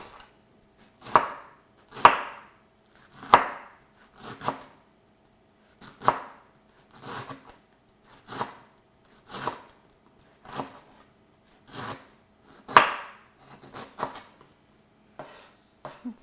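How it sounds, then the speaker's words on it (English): A knife slices lemongrass stalks on a cutting board for Vietnamese lemongrass beef, giving a steady run of about a dozen crisp, close chopping strokes spaced roughly a second apart, with no talk. "And then from here you'll slice them."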